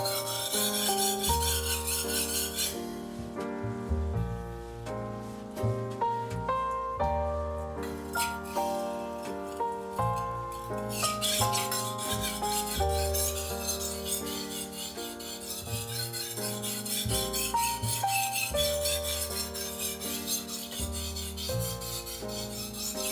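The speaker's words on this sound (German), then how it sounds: "mit moderatem Druck mit gleichbleibendem Winkel über den nassen Stein gezogen" Repeated rasping strokes of a knife blade drawn with moderate pressure at a constant angle across a wet whetstone, close and steady, with brief pauses between passes.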